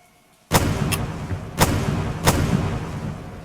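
Pistol shots in a video game, three sharp loud reports spaced roughly a second apart, each followed by a short boomy tail, after a near-silent moment.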